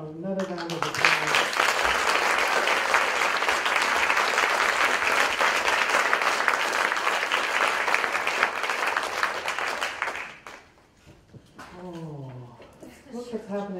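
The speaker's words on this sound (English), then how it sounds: "Please give both of them another round of applause." Sustained, full audience applause at a literary reading fills most of the stretch, then fades out and a speaker's voice takes over at the end.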